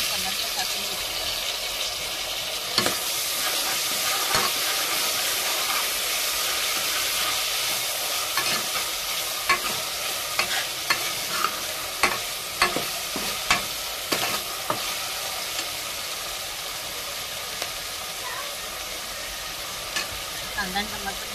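Onion and tomato fry in a pan for veg pulao while being stirred, a continuous close sizzle broken by frequent scraping and clacking strokes of the spoon, with a voice talking over it.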